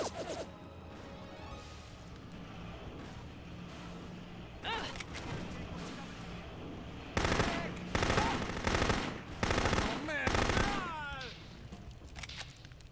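Gunfire in the spy shooter No One Lives Forever 2 crackles steadily in the background, then bursts into loud, dense automatic volleys with sharp impacts and debris clatter in the second half.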